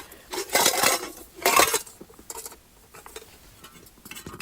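Metal kettle and lid being pulled out and handled inside a tent in the cold, giving two bursts of clattering and scraping followed by softer knocks and rustling.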